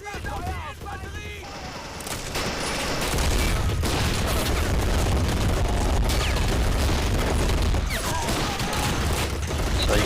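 MG42 machine gun fire in a Men of War battle, with German gunners holding a courtyard against Soviet infantry. Dense, continuous bursts of gunfire and distant booms fill the scene, loud and sustained throughout.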